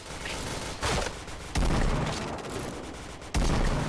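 Heavy shots ring out from a PGM Hecate II sniper rifle in a shooting video game, three loud booming reports spaced over a few seconds amid dense background gunfire.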